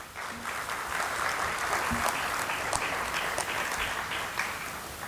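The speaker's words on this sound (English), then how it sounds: "Let's thank him again with a huge round of applause" Audience applause at a university foundation day celebration in a hall, steady dense clapping sustained throughout at moderate volume with no voices over it.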